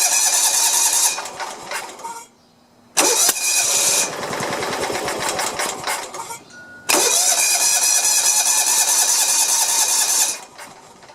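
A Kawasaki FC420V engine on a John Deere 170 mower runs loud and close, cutting out briefly twice and restarting, its steady mid-pitched drone carrying alone with no talk.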